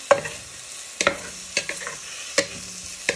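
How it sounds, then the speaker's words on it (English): Bacon frying in a pan while a wooden spoon stirs and breaks it apart, with a steady close sizzle and four distinct scraping knocks of the spoon spaced about a second apart. "So next step, you're going to add in your bacon"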